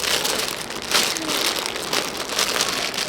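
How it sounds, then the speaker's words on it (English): Plastic packaging of a cross-stitch kit crinkles and rustles up close in a steady, continuous stream of crackly handling noise with brief louder bursts. "Crinkling."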